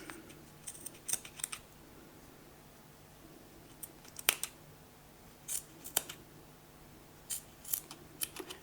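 Scissors snip through crochet yarn while a pompom is made, a few clusters of crisp, close clicking cuts in otherwise quiet surroundings.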